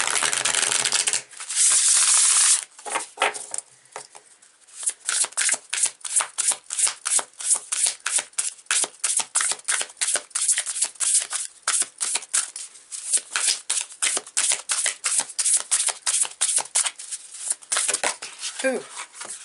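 A deck of spellcaster oracle cards being shuffled by hand, close and crisp, with rapid, rhythmic slapping riffles that repeat steadily through most of the clip after a short burst of rustling at the start.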